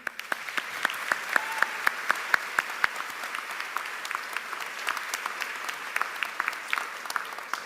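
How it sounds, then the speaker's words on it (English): Graduates, families and friends applaud at a high school commencement ceremony, with dense, fairly distant clapping throughout, punctuated by a few sharp, closer claps near the start. "Can we get a round of applause for them?"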